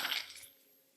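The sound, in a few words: phone knocked out of hand and stepped on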